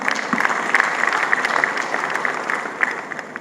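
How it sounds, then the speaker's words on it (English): An audience applauds at a corporate shareholder presentation: a dense, steady patter of many hands clapping, even in loudness, with a few sharper claps popping out across the whole stretch. "So again, another big round of applause here."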